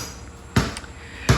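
A basketball bounces indoors twice, about three quarters of a second apart, each bounce a sharp thump heard close and clear over a quiet room.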